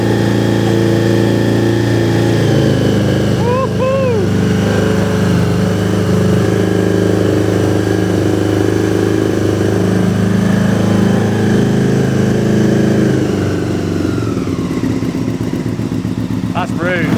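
A motorcycle engine idles steadily with a rough, throaty rumble throughout, then revs briefly near the end while a person talks over it.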